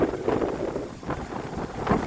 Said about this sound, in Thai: โอ้ลมแรงแล้วพี่น้อง